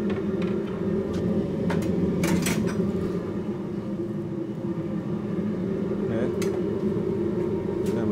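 A wok clanks a few times as it is handled while heating with oil, brief metallic knocks over a steady roaring burner, with a voice talking in the background of a Thai street food stall.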